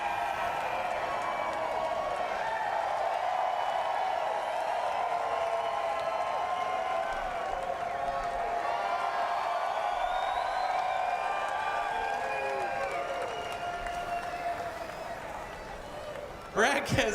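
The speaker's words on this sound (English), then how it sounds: "you hear the crowd reacting as Brad's trying to climb out of the 22" A big crowd at a NASCAR Xfinity Series race roars steadily as Brad Keselowski climbs out of the No. 22 car, with a commentator talking over the continuous cheering.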